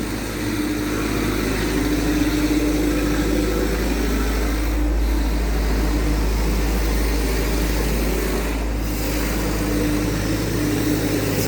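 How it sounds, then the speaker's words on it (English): Roadworks machinery digging up a high street rumbles in a steady, continuous engine-like drone, fairly loud and unbroken throughout, with no voices heard. "They're just digging up everywhere at the moment."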